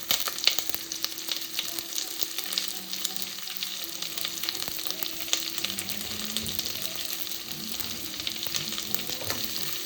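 Onions frying in a pan for onion noodles, giving a soft, even sizzle with occasional light stirring clicks, close but fairly quiet and unbroken by voices.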